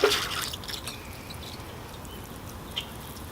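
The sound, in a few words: watering bonsai trees with water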